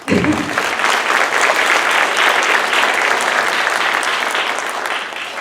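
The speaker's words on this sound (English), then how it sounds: "let's go ahead and give them a round of applause for that" An audience at an elementary school awards ceremony breaks into steady, loud, dense applause that holds evenly for several seconds before tapering slightly at the end, with no voices over it.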